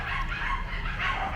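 Dogs barking in a neighbourhood in the Philippines, a steady mix of yips and barks heard at mid distance under broad background noise, with no talking.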